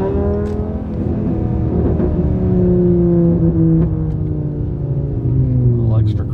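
A VW 2.5 07K five-cylinder engine with an Integrated Engineering Stage 2 tune accelerates on the road, heard loud and close from the car. Its drone climbs steadily in pitch through the revs, with slight crackle and shifts between gears.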